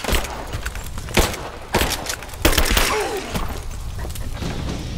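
Gunfire in Rise of the Tomb Raider: scattered sharp shots and heavy thuds at irregular intervals, some loud and close, amid game combat noise.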